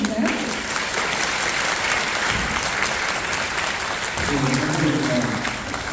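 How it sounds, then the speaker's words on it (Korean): A concert audience claps in sustained, full applause, with the clapping continuous throughout while a voice talks over it at the start and again near the end. "다시 한번 큰 박수를 부탁드립니다"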